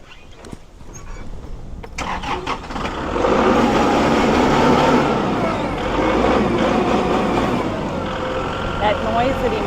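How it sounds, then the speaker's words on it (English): A tractor engine on a farm starts up after some knocks and handling noises, then runs at a steady, fairly loud drone for several seconds, with a faint voice now and then. "That noise that he makes with the tractor"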